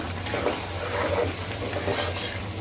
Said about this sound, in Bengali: এখন হচ্ছে লাউগুলো ঢেলে দিব